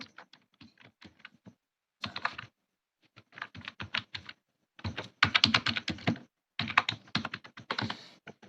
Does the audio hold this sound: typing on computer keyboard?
yes